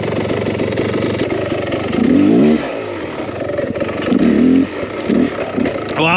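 A 2023 Beta Xtrainer 300 enduro motorcycle being ridden, its two-stroke engine buzzing loud and close, revving up in sharp surges with some clattering over rough ground.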